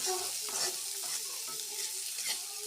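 Onions frying for egg bhurji crackle and sizzle steadily in a hot pan, with light stirring scrapes running throughout; close and moderately loud, no talking.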